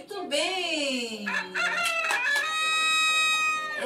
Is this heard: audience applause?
no